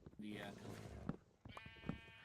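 Two short sheep bleats from Minecraft, a wavering nasal baa followed by another after a brief pause, fairly clear against quiet background.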